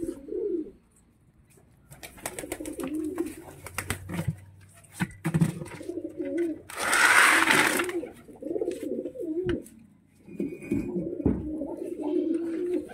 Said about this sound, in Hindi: देखो यार, कबूतर रोटी के लिए आ रहे हैं सभी अपने पास।